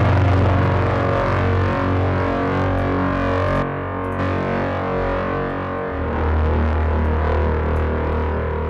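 Heavy distorted FM synthesis bass from Ableton Drift, a loud, thick, buzzing sustained tone with throbbing low end that dips briefly near the middle and swells back, heard alone.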